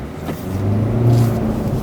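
A Hyundai Avante (The New Avante facelift) in sport mode with traction control off pulls away on a race circuit, its engine note climbing steadily and loudly over about two seconds, close and without talk.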